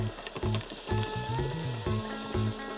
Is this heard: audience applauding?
no